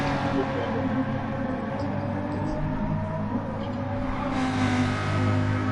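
A car engine in a racing video game drones and surges continuously at close range, pulling through gears, with no talking over it.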